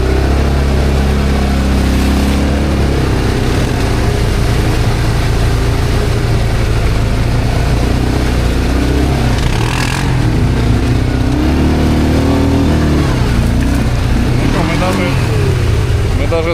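An ATV quad bike driving off-road through ruts in rear-wheel drive: a loud, steady engine drone that rises and falls with throttle, and people talking over it throughout.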